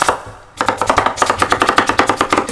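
A knife cuts down through butternut squash on a board: after a brief pause, a rapid, regular run of crisp chopping strikes, close and loud, with no talking.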